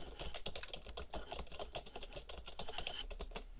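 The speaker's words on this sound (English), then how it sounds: "she typing fast as fuck" Fast typing on a computer keyboard: a rapid, continuous flurry of close, quiet key clicks with no pauses, heard alone.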